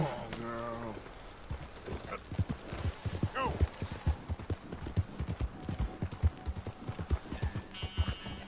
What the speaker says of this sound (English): Vamos a subirnos en el caballo.